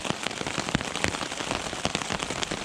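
Constant dense rain drums on a tent at a trail campsite, a close, even hiss of many fine droplet taps with no pauses.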